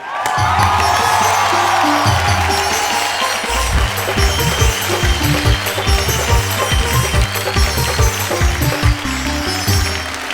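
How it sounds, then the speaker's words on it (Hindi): Audience applause at a Hindi poetry stage show: loud, sustained clapping and cheering from a large crowd, dense and continuous throughout. "तो फिर एक बार ताली बजाना शुरू कर दीजिए"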